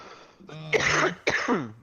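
Someone nearby gives a couple of rough throat-clearing coughs, two short harsh bursts close to the microphone.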